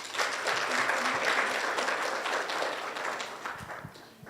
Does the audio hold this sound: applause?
yes